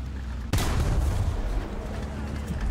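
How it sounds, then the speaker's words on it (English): An artillery shell strikes in War Thunder, a sudden heavy boom bursting out after a quiet moment, then a long rumbling tail of debris and echo beneath continuous battle noise. "And instantly somebody's calling artillery"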